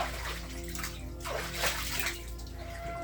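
Knee-deep floodwater sloshing and splashing in short bursts as someone wades or stirs it, heard close up with a low background hum.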